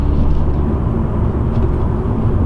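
Exhaust of a BMW M140i with an M Performance exhaust system, heard from inside the cabin while driving: a loud, steady low drone and rumble with no talk.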